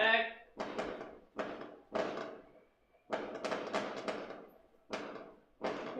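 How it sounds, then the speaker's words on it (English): Fireworks going off outside at midnight, heard as a series of distant, muffled thumps and bursts arriving in irregular clusters with short gaps between them. "Yeah, I think you can hear the fireworks."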